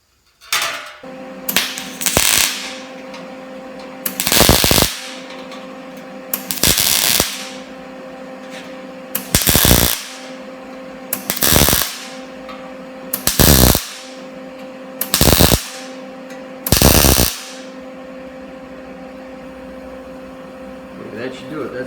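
Tack welding on a performance muffler: about eight short, sharp crackling bursts spaced roughly two seconds apart, each loud and close, over a steady electrical hum.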